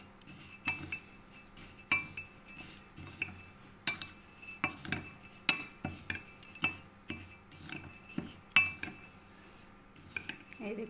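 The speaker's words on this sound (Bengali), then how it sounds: "এখন আমি সব মশলাগুলোকে একই সাথে মিলিয়ে নেব।" A spoon mixes whole spices such as black cumin (kalonji) and fennel seeds in a bowl for a homemade five-spice blend, giving quiet, irregular metallic clinks and scrapes against the dish, repeated over several seconds with no talk.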